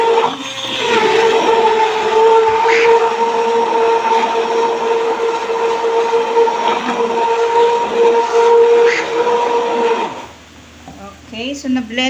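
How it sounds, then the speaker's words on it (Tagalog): Kitchen blender blending pear and kiwi: a loud, steady whirring drone runs for about ten seconds up close, then cuts out into a quieter tail. "nandito na tayo sa ating blender. Yung ating blender. Blend lang natin."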